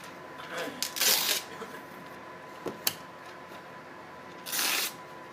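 Sheets of thin phone book paper are handled and torn into quarters, giving a few crisp rustling and ripping bursts with quiet gaps between them.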